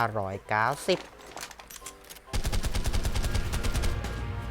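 Rapid machine-gun fire in a dungeon-crawling video game, a dense, steady burst of evenly spaced shots that starts partway through after a few seconds of spoken commentary and other game sounds.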